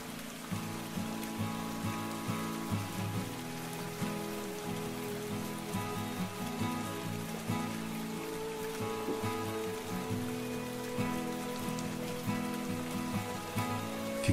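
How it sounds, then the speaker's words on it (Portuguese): Steady rain falls in a visual novel video game scene, a continuous even patter of drops that holds for the whole stretch. It sounds soft to moderate in level, with no talking. "Ficar sozinha na chuva."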